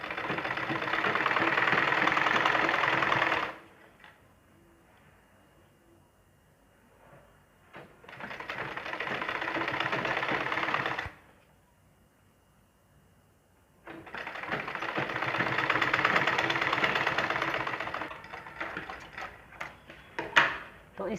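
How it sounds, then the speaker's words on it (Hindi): A sewing machine stitches the sleeve seam of a ladies' suit in three bursts of rapid mechanical whirring, separated by short quiet pauses filled with faint handling noises. "उल्टी तरफ से बाजू की हम इसको एक पैर की सिलाई दबाते हुए सी लेंगे"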